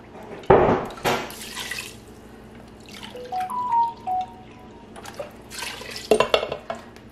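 Chicken broth is poured into a cooking pot with a splashing, trickling rush of liquid, framed by clanks of the pot and container near the start and end.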